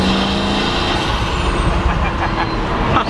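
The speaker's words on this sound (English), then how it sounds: "Just the spool up of those turbos and the blow off is just unreal" Pagani Huayra Roadster twin-turbo engine: a loud, sustained rush of turbo spool and whooshing blow-off over engine roar, close and continuous.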